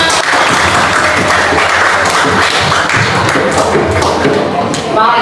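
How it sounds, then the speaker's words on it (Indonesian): A classroom or training group in Indonesia claps after singing an old folk song, loud dense applause close by with scattered taps and thumps, running without pause; some voices mix in. "tepuk tangan semua"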